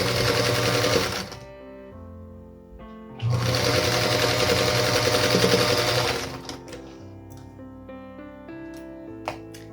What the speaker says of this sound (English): And now we'll sew that final side on.